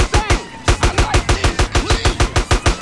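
Rapid automatic gunfire from GTA San Andreas rattles in a steady, evenly spaced burst of sharp, loud shots, close and continuous with no talking over it.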